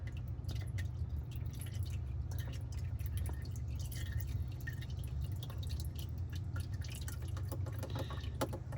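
Engine oil running out of a car's drain hole into an oil pan, a steady close trickle with rapid drips and splashes continuing without a break throughout.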